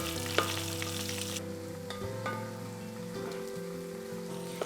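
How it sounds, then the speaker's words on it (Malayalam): Five chopped onions sauté in a pan for Kerala-style anchovy thoran, a soft, continuous sizzle alongside a steady background hum and the occasional light clink, with no voices. "സവാള ഇട്ടത് നല്ലോണമൊക്കെ വഴറ്റണം നമുക്ക്."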